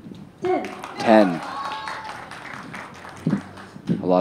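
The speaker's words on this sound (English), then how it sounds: "A lot of cheering from the Chinese contingent here." Chinese supporters at a women's compound archery gold final cheer and clap in short bursts, a shout and applause swelling twice over the arena noise while a commentator talks.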